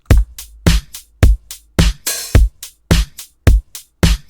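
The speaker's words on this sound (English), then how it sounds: "And altogether, the drum loop sounds like this." A simple four-on-the-floor pop drum loop programmed in FL Studio plays loud and alone, with a steady punchy kick on every beat, snare hits and a brief sizzling open hi-hat partway through.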